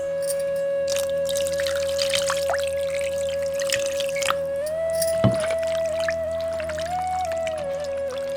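Water is poured over chicken pieces to wash them, a continuous close trickle and splash with scattered drips over a steady background hum, and no talking.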